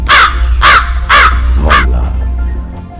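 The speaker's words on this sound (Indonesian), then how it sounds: "burung gagak" Four loud, harsh crow caws from a sound effect come in a fairly even rhythm, close and dry over a low steady hum. Quieter rustling follows, and no voices are heard.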